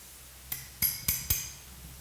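Four sharp metallic taps of a flat chisel struck behind a gearbox sleeve on a Rittenhouse pump and engine assembly, fairly close, uneven in spacing, with quiet pauses between.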